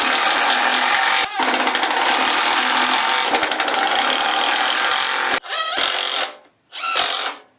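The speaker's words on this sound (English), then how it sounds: "After drilling pilot holes," A power drill whines and hammers loudly in long bursts while drilling pilot holes in wood for a stitching pony, stopping briefly between runs, with a final pair of short bursts.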